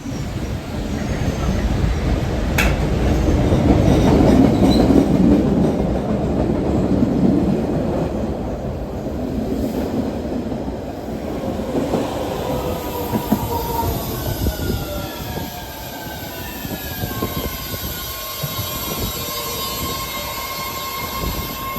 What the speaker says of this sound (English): the next train now approaching with all new Red Line cars